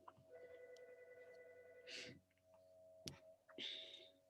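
A phone rings faintly during an online information session, a thin repeating electronic tone interrupted by a couple of brief clicks and noise bursts, quiet and a little distant.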